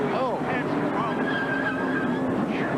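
NASCAR stock car engines roar loudly with a sharp tire squeal and skid, a crowd-like wash of noise underneath, as bunched cars wreck on a restart at Rockingham.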